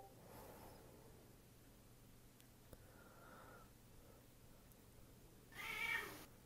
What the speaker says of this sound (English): For a tiny cat, she makes a hell of a lot of noise.